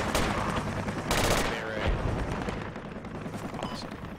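In Project Reality, a close air support aircraft strafes a tree line, sending loud rapid bursts of cannon fire and rolling impacts across the scene, with voices talking over the barrage.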